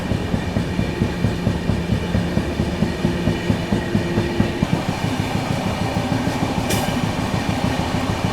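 The 15658 Brahmaputra Mail running at high speed past Etawah Junction, a loud, close, steady roar with rapid rhythmic wheel clatter throughout and a brief hiss near the end, no voices.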